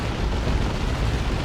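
A continuous, dense roar of artillery barrage explosions from a Dawn of War 2 match between Chaos Space Marines and Orks, blasts blending into one sustained rumbling wash.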